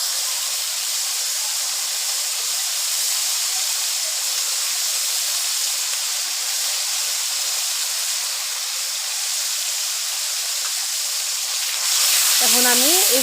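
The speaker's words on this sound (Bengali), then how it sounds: "এখন এই তেলে আমি মশলাগুলো দিয়ে দিব।" Cumin, ginger and garlic fry in hot oil over lightly browned onions and chillies, a bright, steady sizzling hiss that holds close and loud throughout, with a voice breaking in briefly at the very end.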